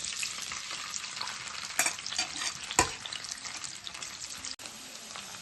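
Chopped onions and green chillies sizzle steadily in hot oil in a pan, a continuous bright crackle with occasional stirring scrapes and no talk.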